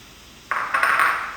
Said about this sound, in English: I'm going to go ahead and throw in our onion.